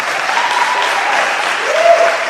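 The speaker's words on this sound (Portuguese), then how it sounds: "Quem pode aplaudir o Senhor aí?" An indoor audience at a church youth camp breaks into loud, sustained applause that holds evenly throughout, with a faint voice underneath.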